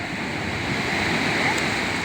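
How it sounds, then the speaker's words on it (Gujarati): The sea roars at high tide by the Alang shipbreaking yard in a dense, unbroken surf rush, loud and close, wind-like and steady throughout. "દરિયો પણ ઘૂઘવે છે"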